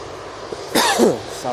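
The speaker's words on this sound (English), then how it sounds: "Sorry, I really wanted to cough during that video." A man coughs and clears his throat close to the microphone, making a couple of short, rough bursts against quiet background noise.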